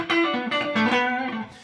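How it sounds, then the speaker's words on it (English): A guitar played through a Strymon Flint pedal on its 70s plate-style reverb setting rings out in a short phrase of sustained notes, with a smooth reverb tail fading near the end. "it's like a plate reverb in a way"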